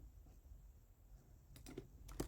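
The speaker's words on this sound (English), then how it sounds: "Can you stop typing?" Faint keyboard typing during an online card game match, a few quiet clicking keystrokes near the end over a low background hum.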